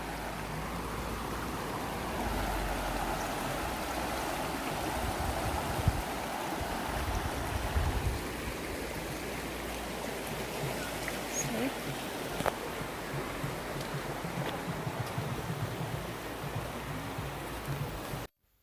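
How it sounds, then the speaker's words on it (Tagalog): A creek flows steadily near the microphone outdoors in summer in Zimţi, Lăpuşna, Mureş, Romania, its continuous watery rush filling the whole stretch with an even, moderately loud wash and no break. "So dito yung sapa. Check it out. Guys, ang sapa natin."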